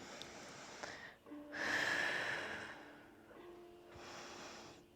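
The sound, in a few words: deep breathing during a Pilates exercise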